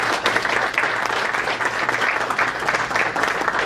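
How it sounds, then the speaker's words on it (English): Audience at a Plainfield Rotary gathering claps in a dense, even burst of applause that holds steady throughout, close and fairly loud, with no talking over it. "Yeah, clap for that."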